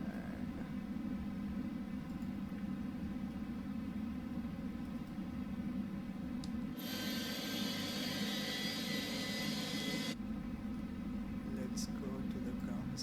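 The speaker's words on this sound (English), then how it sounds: "We'll be seeing the engine starting spooling here." A commercial airliner's jet engine spools up in a flight simulator, a steady loud roar with a bright high hiss swelling in midway and then cutting back, continuous throughout.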